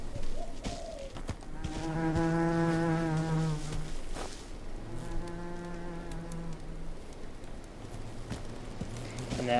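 Buzzing bees in an Unreal Engine game scene come through as two drawn-out droning hums, one after another, over soft background noise and occasional dull thumps.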